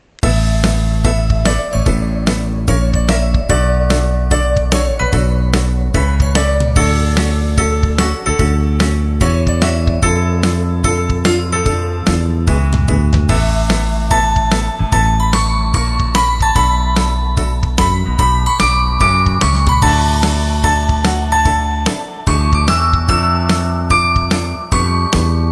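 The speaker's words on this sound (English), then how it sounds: "Roll the Christmas intro." A Christmas intro jingle for a holiday nail-art show plays loud and continuous, bright tinkling bell-like music over a steady rhythmic backing, with no voices.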